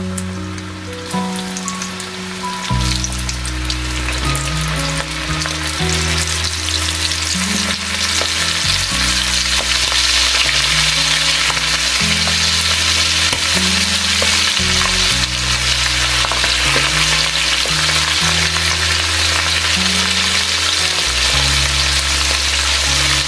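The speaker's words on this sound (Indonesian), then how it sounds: "si cumi tadi langsung digoreng." Squid fries in hot oil, giving a loud, dense, continuous crackling sizzle that holds steady and close throughout, with a low background hum and no talking.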